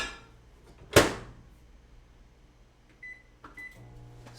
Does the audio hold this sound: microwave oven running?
yes